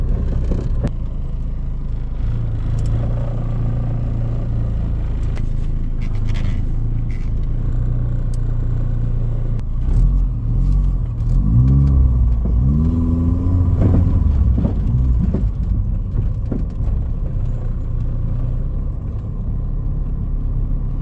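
Honda fuel-injected motorcycle on a test drive after throttle and pedal position sensor repair, engine rumbling steadily then rising in a few sweeping revs as it accelerates, close and continuous with no talk.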